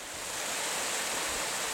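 A small waterfall on a Lake District country walk near Thirlmere gives a soft, steady rush of falling water, continuous and fairly faint, with no voices.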